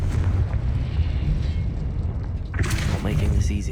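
A Confringo fire spell explodes in Hogwarts Legacy: a sustained rumbling boom with heavy low-end roar, then a sharper bright blast and crackle near the end, loud and close amid game noise.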